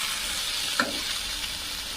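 Lentil fritters (dal bora) frying with spices in a pan, a steady soft sizzle throughout with a brief clink near the start.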